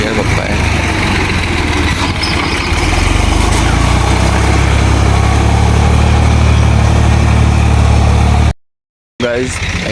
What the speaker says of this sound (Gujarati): આવી ગયું ટ્રેક્ટર